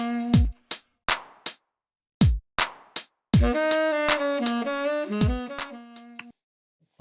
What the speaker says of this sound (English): Sounds like a 2-bar loop.